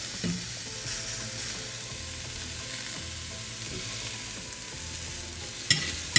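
A flatbread wrap fries in a pan with a steady, soft sizzle that holds throughout, then a brief scrape and clatter near the end as it is flipped over.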